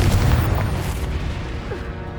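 A spell blast cast in the Hogwarts Legacy video game on PS5 booms with a dense, loud low-frequency burst up front that rumbles and tails off over a couple of seconds amid steady game ambience.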